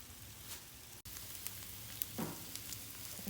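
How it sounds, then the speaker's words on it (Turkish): Onions fry in a pan for a zucchini breakfast omelette, a soft continuous close sizzle with small pops and crackles and no voices. "soğanı kavurduk güzel oldu"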